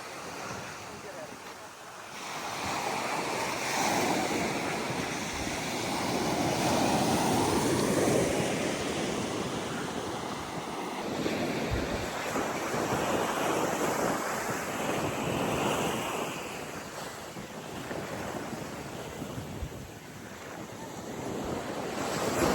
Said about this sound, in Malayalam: തിര കയറി വരികയാണ്